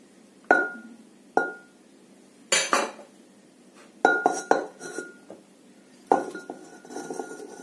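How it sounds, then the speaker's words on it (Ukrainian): Cooked potatoes tipped into a cooking pot already holding onion, meat and fried mushrooms, giving several separate clattering clinks of utensil against pot spread over a few seconds, close and fairly loud, with no talking. "Картопля готова, і також відправляю в наш горщик."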